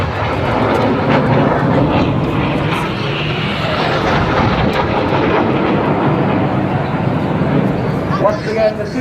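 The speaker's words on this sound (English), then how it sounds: "They're now working hard, fighting the G-force as they fly the Cyclone." Red Arrows display jets fly the Cyclone manoeuvre at a Blackpool airshow, a loud, sustained roaring jet noise that swells and fades as the aircraft pass, with a commentator talking over it.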